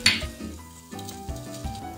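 Tomato sauce and seasonings sizzle in a saucepan with olive oil while a utensil stirs, clinking against the pan in a few light, rhythmic scrapes.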